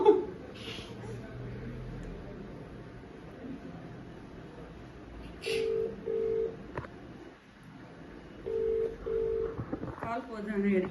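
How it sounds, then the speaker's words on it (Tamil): A phone call is dialed and rings out, with short beeps followed by two separate bursts of steady ringback tone at moderate volume, while faint voices murmur in the background. "கால் பண்ணிட்டு இருக்கேன் விஜயன் கிட்ட."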